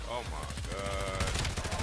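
Rapid bursts of gunfire from a Call of Duty match, close and loud, with automatic rounds rattling in quick succession alongside a player's voice.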